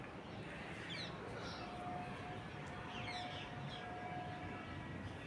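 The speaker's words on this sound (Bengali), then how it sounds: "খালি একটু একটু পাখিদের কলরব শুনতে পাচ্ছ?" Faint birds chirp now and then over a steady, noisy outdoor background hum, with a thin sustained tone drifting through.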